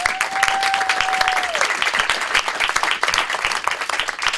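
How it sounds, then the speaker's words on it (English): Dense crowd applause at a conference on eliminating discrimination against women fills the whole stretch, steady and loud, with a faint tone fading early and brief voice traces underneath. "So let's give them a very big round of applause."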